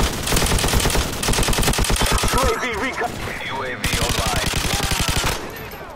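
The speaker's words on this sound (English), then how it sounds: "Gun noise is equally distinct, but of the two, I actually think the more simple noise from Call of Duty 4 is my favourite." An M60 machine gun from Call of Duty fires long, rapid bursts, loud and close, with sharp evenly spaced shots, brief pauses between strings, and the in-game sound of the shooting around them.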